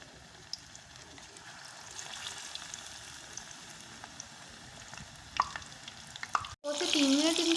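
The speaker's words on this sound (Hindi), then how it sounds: "तो टिक्की को हम बेसन में डिप करेंगे और ऑयल में डाल देंगे।" Besan-dipped beef tikki sizzling in hot oil, a steady crackling fry with occasional louder spits and clatter of pieces being dropped in, close by, with a brief break and a louder bubbling burst at the end.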